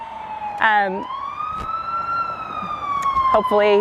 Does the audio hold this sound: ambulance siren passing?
yes